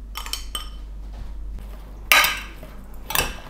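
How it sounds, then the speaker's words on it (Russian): Vegetables being tossed with dressing in a dish, with a few sharp clinks of a utensil against the dish spaced apart over a quiet background. "И теперь заправкой поливаю овощи и хорошо перемешиваю."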